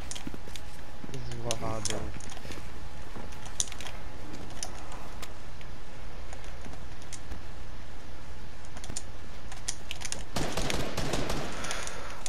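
Gunfire from OG Fortnite gameplay: scattered sharp shots and brief bursts through a busy game mix, loudest near the end, with players talking excitedly over it.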